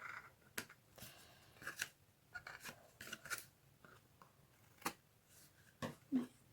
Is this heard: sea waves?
no